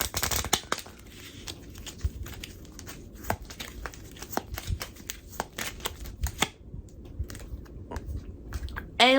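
A deck of cards being shuffled close by, crisp riffling bursts and snapping flicks repeating irregularly, with brief pauses between runs and no talking.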